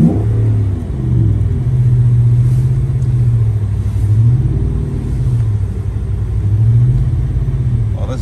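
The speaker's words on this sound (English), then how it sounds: "This has got to be the world's slowest donut." Car engine rumbling at low revs with steady, gently rising and falling pitch as it turns a slow donut in a snowy church parking lot, close and continuous without talk.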